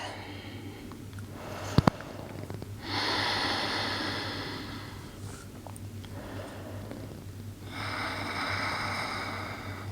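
Long, deep breaths during a yoga stretching session on a mat, drawn slowly in several extended, airy waves with brief pauses between them, fairly close and steady, with a faint low hum underneath.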